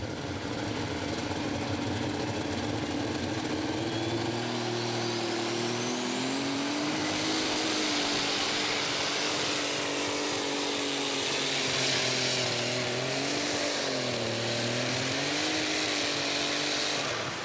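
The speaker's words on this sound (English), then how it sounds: "you could actually hear the RPMs come down in the engine" Unlimited super stock tractor engine roaring steadily at a truck and tractor pull, a sustained loud drone with RPM rising and falling in sweeping pitch changes, heard from a distance without talk.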